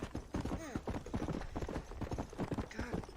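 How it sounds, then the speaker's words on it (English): Horse hooves clip-clop in a steady, even rhythm during riding in the Red Dead Redemption video game, a close and clear gait that continues throughout, with faint voice sounds underneath. "I do love riding horses."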